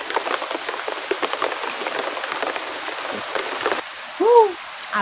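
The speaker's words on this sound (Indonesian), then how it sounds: "Nya hujan deui." Steady rain falling outdoors in a Sundanese village, a dense continuous patter with no talk over it, joined near the end by a brief higher call or squeal.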